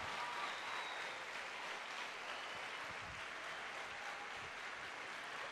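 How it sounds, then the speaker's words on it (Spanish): A church congregation at a worship and dance night applauds, a faint, even wash of clapping heard from a distance, steady throughout. "Ese aplauso es por todo el esfuerzo."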